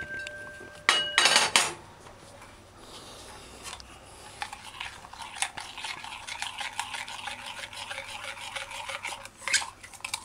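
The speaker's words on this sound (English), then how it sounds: "So you just stir it in before you add it. Stir it properly." A spoon scrapes and clinks around a pot of peanut porridge as coconut powder is stirred in, with a sharp metallic clatter early on and then steady, close scraping strokes.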